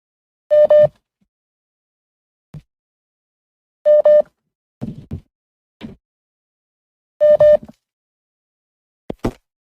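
A telephone line failing to connect during a live broadcast call-in, sounding as three evenly spaced electronic busy-signal tones, clear and loud, with brief faint clicks and noises in the gaps between them.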